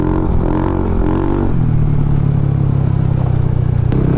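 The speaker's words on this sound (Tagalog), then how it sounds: "hindi mo ilalabas yung ganyan tunog sa JVT eh" A scooter-style motorcycle fitted with a JVT Pipe V3 exhaust and CVT set, revving steadily with a continuous, loud, near engine drone whose pitch drops slightly partway through, without speech.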